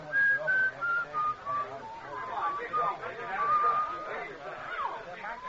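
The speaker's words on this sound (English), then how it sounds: "I'd been hearing that whistling right along and didn't notice it" Someone whistles a wavering tune in short phrases, with background voices and chatter mixed underneath.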